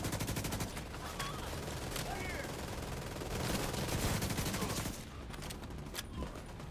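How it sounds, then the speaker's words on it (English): Sustained LMG fire in The Division 2, a dense rapid stream of shots that keeps going almost throughout, with brief gaps and small bursts near the end. "Look at that, blind firing."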